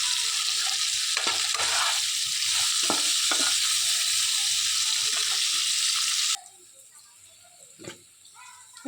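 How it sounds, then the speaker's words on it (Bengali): Paneer pieces frying in hot oil in a pan, a steady loud sizzle with occasional scrapes and taps as they are gently turned, then the sizzle abruptly drops away to quiet near the end. "বাকি পনিরের টুকরোগুলো দিয়ে দিয়েছি, সেম প্রসেসেই ভেজে নেব হালকা নেড়ে চেড়ে।"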